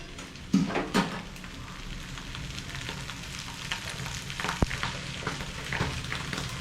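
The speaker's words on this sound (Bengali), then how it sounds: "এবার আমি আস্তে আস্তে লাল করে নেব গ্যাসটা মিডিয়াম ফ্লেমে করে দিয়ে আস্তে আস্তে লাল করে নেব" Mutton liver frying in a pan over a medium flame, village-style, giving a steady close sizzle with a few sharper spatters and a brief clack of a spoon or utensil near the start.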